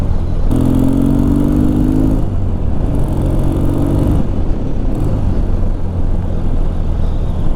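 A Triumph T140 motorcycle, a barn find on its first ride, runs steadily and loud throughout, its engine drone shifting pitch as the revs rise and fall with gear changes, with no talking over it.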